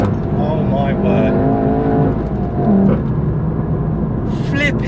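A Volkswagen Golf GTI Clubsport S is driven hard through corners, its engine droning loudly and shifting in pitch as revs rise and fall, with brief high squeals near the end.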